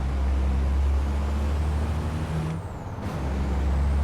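A racing truck brakes hard in a truck racing video game, a loud steady engine drone with a brief dip and hiss of air brakes midway, continuous and alone.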